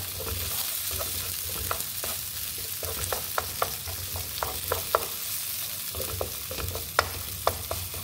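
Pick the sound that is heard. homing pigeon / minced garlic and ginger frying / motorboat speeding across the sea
minced garlic and ginger frying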